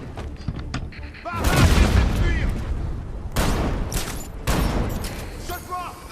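Shotgun blasts and heavy gunfire from the video game Batman Arkham Knight come in repeated loud, booming bursts separated by short lulls, with a constant rumble of game sound underneath.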